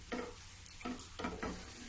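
A spoon works a thick, drying potato barfi mixture around a kadai on the stove in a few separate scraping strokes, soft, close and fairly quiet.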